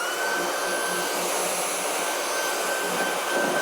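Dyson V8 cordless vacuum fitted with a 7000mAh replacement battery, running on max power, a steady close whining roar with a high tonal hum and no break.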